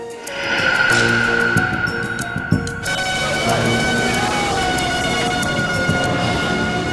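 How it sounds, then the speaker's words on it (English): An ambulance siren rises and falls over busy street noise and engine rumble in Kuta Beach, Bali, after a bombing, with some indistinct voices mixed in. "By 3 a.m., ambulances arrive with the last of the survivors."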